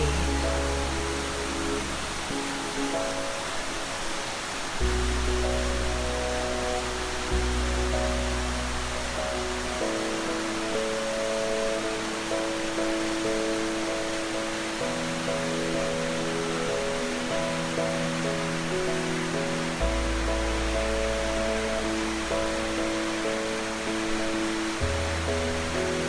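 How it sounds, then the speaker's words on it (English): Water pours continuously at a waterfall in nature, a broad even hiss that holds steady throughout, while sustained soft musical tones drift and change underneath; no one speaks. "Turn your attention and awareness to the breath, the water, all the sounds of beauty of nature."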